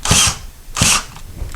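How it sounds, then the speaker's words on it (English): An electric driver runs in two loud bursts, whining and rattling as screws are driven into drywall for a curtain rod, with short pauses between. "Put them in our electric driver, put them in here, screw them in"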